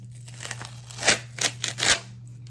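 PET transfer film being hot-peeled, giving a few quiet crinkling, tearing rustles over about two seconds, with a couple of louder strips near the middle against a steady low hum.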